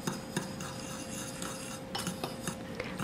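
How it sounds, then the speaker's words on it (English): Cinnamon and sugar are stirred together in a bowl, a quiet run of scraping and light clinking from a utensil against the dish, with soft rhythmic taps. "So now I'll mix this all together."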